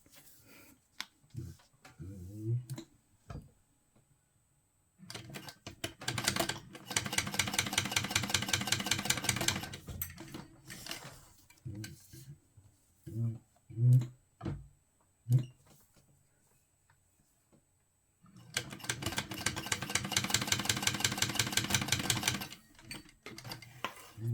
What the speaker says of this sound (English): And then sew down each side with a top stitch.